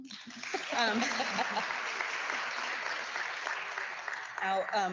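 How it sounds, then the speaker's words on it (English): Audience applause fills an athletics awards banquet hall, a steady wash of clapping lasting several seconds with voices and cheers mixed in, swelling again near the end. "Round of applause"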